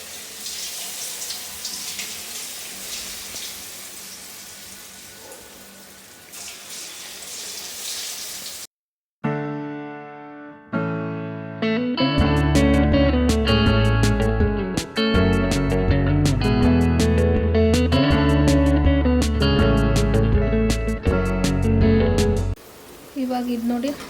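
Marinated pieces fry in hot oil with a steady, fairly loud crackling sizzle for about nine seconds, then background music takes over.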